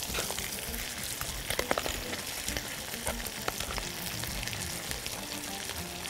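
Broccoli cream sizzles and fries steadily in a small pan, a dense crackling hiss with scattered pops and occasional stirring sounds, close and fairly quiet.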